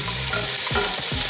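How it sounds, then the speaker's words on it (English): Curry leaves, onions and garlic fry in coconut oil heated near smoking point, giving a steady dense sizzle with soft stirring scrapes throughout. "Traditionally, you start with your curry leaves, onions and garlic in"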